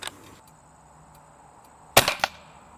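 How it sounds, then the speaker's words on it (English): An air gun fires Harpex pellets into an MDF target, giving a sharp, loud crack near the end followed by a brief smaller impact, after quiet near-silence. "I'm going to take 3 shots."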